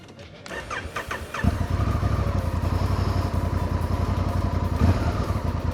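A Honda Africa Twin parallel-twin adventure motorcycle cranks over at about 1.5 seconds and catches, then settles into a steady, loud, close idle.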